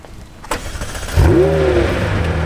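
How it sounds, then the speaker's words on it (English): A McLaren 720S engine cranks and catches after a quiet moment, then settles into a steady, fairly loud idle with a low rumble. "I'm going to go ahead and start the car up"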